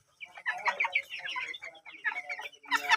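Young chicks being kept warm on a poultry setup chirp and cluck continuously, a close cluster of overlapping bird calls with no talking.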